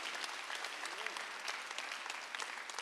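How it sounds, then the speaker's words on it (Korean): A church congregation at a Sunday worship service claps together in steady applause. It is fairly faint and continuous and runs for the whole stretch. "박수."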